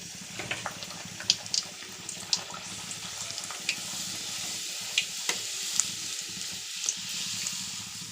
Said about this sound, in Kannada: ಇವಾಗ ಎಣ್ಣೆ ಕಾದಿದೆ. ಎಣ್ಣೆ ಪೂರಿಗೆ ಒತ್ತಿಟ್ಕೊಂಡಿರೋ ಪೂರಿ ಹಾಕೋಣ.